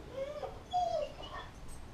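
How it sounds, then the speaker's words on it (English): A dog whines faintly in the background, two short high whimpers rising and falling over a quiet low hum. "You can hear my dog whining in the background."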